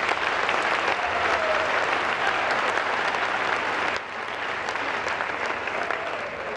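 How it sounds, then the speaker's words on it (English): Sustained, dense applause from an audience at a peace event in Ghana, loud and even throughout, dipping slightly partway before continuing steadily. "Let's give the best of applause."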